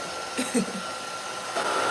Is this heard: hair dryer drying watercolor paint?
yes